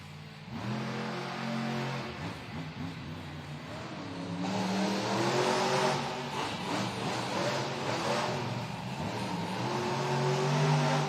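JCB Digatron monster truck at a Monster Jam event in Duluth, Georgia, its engine roaring and revving loudly and steadily, building in intensity over several seconds amid arena ambience.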